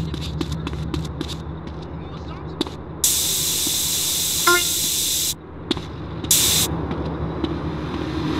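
Aerosol spray can hissing as a gang tag is painted in GTA San Andreas, heard in two loud, steady bursts with a brief break between, over a low idling engine and street background with a short car horn.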